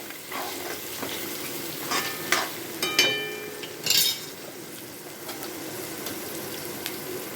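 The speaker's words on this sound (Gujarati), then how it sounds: "ત્યારબાદ આપણે આ ફ્લાવર કટ કરેલું નાખી દઈશું." Cut cauliflower florets are tipped into a sizzling pan, bringing a few clattering bursts over a steady frying hiss that carries on afterwards.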